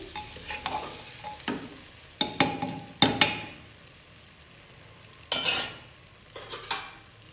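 Meat frying in a pan for a Nepali meal as spices are stirred in: soft sizzling under several sharp clanks and scrapes of a metal spoon against the pan, close by, in irregular bursts.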